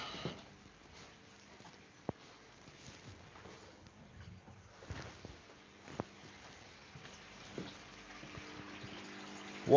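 Water pours steadily into a home aquarium tank, a soft continuous trickle and splash with a few faint clicks and knocks, low and even throughout.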